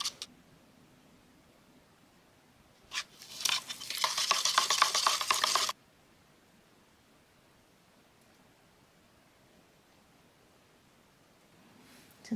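PureCure plaster powder mix is stirred in a short burst of gritty, scraping swishes lasting about three seconds, then near silence, close and fairly quiet with no speech.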